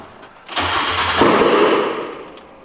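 A Mazda MX5 drift car with a turbocharged standard engine cranks briefly, then catches and settles into a loud, close idle that slowly fades.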